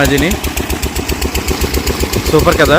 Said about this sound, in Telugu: ఇక్కడ ఒక ఇంజిన్ కూడా ఉంది